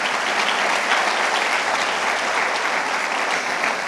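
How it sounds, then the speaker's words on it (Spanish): A congregation at a church sermon breaks into loud, sustained applause, many hands clapping densely and evenly for several seconds, close and full, with no speech. "Entonces, aplaude al Señor"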